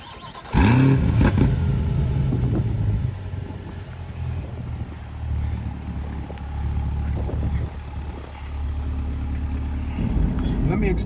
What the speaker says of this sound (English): Let y'all see how mean this thing sound when you start it up.